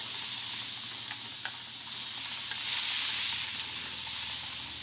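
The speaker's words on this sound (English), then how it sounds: "and I give her a good spray down." Spray bottle misting the moss pole of a monstera houseplant, a steady soft hissing spray close by that swells louder briefly near the middle, with no talking.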